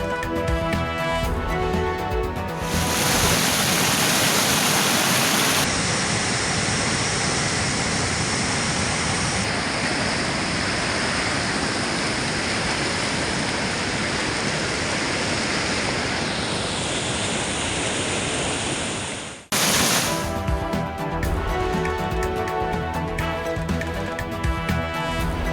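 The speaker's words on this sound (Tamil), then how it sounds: "கோம்பை மூங்கில்காடு மலைப்பாதையில் காட்டாற்று வெள்ளம்." Floodwater roars down a forest stream across the Kombai bamboo-forest mountain road, a loud, continuous broadband rush lasting about fifteen seconds with no voices.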